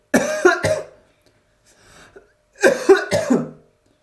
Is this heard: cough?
yes